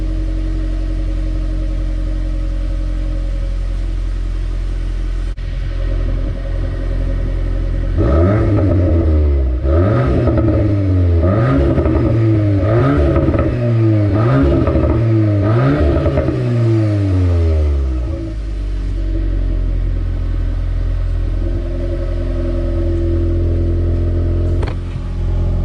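A Volkswagen MK8 Golf R in Nürburgring mode idles with a steady, loud engine drone, broken midway by a run of about six quick throttle blips that rise and fall before it settles back to idle.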